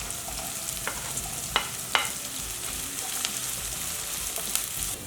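Carrot and onion with curry leaves fry in oil in a pan, a soft steady sizzle broken by several sharp scrapes and clicks of a spoon stirring.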